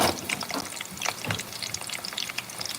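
Onions frying in a pan for a family stew give a faint, soft sizzle with scattered small pops and crackles, close by and heard without any talk.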